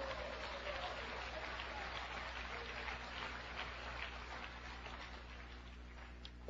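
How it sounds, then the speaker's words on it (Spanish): A church congregation claps for Jesus Christ in steady, sustained applause that fills the hall and then tapers off near the end. "¿Cuánto le pueden dar palmas a Jesucristo?"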